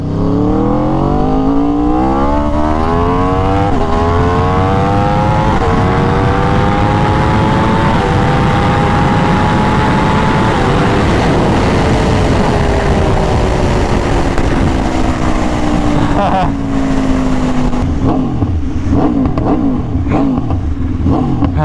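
An Aprilia RSV4 Factory sport motorcycle accelerates hard in first gear, its loud, close engine howling steadily higher for about ten seconds before the pitch eases down and settles into a rougher burbling idle.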